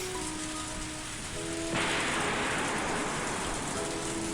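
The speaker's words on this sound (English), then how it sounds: "I heard thunder again" Video game Higurashi ambience: steady rainfall pattering on surfaces, growing suddenly heavier and louder partway through, with faint tonal music underneath and no voices.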